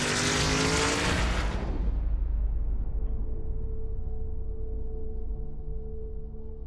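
A race car on a racing track roars past loudly, its engine note sweeping downward and then fading into a low, distant rumble that trails off over several seconds.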